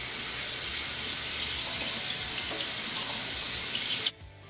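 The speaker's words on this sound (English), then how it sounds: "what I like to do is go ahead and rinse the rest of the buttermilk off the roast" Tap water runs steadily into a sink as buttermilk is rinsed off a bear roast, a continuous close splashing hiss that stops abruptly near the end.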